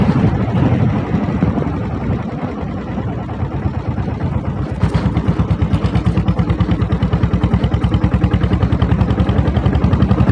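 A diesel Royal Enfield Bullet motorcycle engine idles and runs with a steady, loud, rapid thumping beat close by, settling into an even rhythmic chug after a short rev in the middle.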